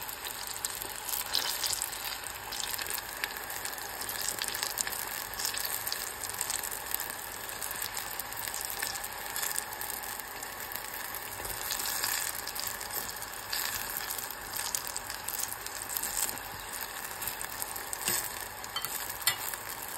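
Eggplant fries in oil in a pan over medium heat, a steady close sizzle and crackle that runs without pause, with occasional scraping and stirring from a utensil and no talking.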